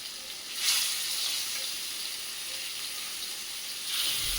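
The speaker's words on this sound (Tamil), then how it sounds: "ஆயில் நல்லா சூடு ஏறினதும் நம்ம மீன் இந்த மாதிரி ஒன்றா சேர்த்துக்கலாம்." Fish fry in hot oil on a dosa pan, giving a steady hiss and sizzle with brief louder surges at the start and near the end. No one speaks over it.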